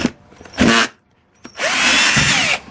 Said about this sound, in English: So just use your countersunk bit to drill a hole